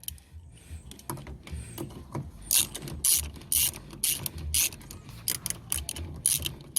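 A ratchet with a 10mm socket loosening a mirror bolt on an Acura TL, giving rapid, close clicking bursts in repeated strokes with brief pauses, and no talk.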